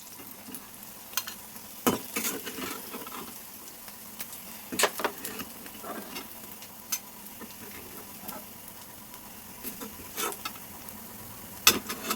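Dried prawns fry and are stirred in a pan: a soft, steady sizzle with intermittent scraping and clicking stir strokes, close and quiet, with no talking.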